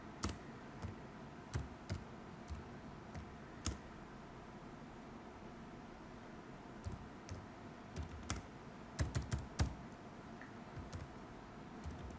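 Urdu text being typed on a computer keyboard: scattered, uneven key clicks, close and fairly quiet, coming in short bursts with pauses and no talking.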